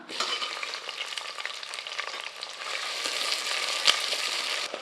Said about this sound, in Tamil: மூணு பெரிய வெங்காயம் நீளவாக்கில் நறுக்கி வச்சுருக்கேன் இதை சேர்த்து லேசாக செவந்து வர அளவுக்கு நல்லா வெங்காயத்தை வதக்கி விட்டுக்கலாம்